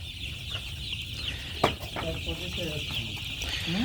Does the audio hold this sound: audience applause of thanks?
no